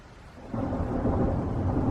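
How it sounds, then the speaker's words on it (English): Thunder during a rainstorm, a deep low rumble swelling in after a brief quieter moment and rolling on steadily, fairly loud, with no voices. "There's the thunder."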